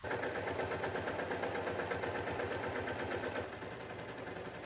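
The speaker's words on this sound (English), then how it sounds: "I'm going to overlock along the top and the sides" An overlocker stitches along the top and side edges of skirt fabric, its rapid mechanical chatter running loud and steady up close, easing slightly toward the end.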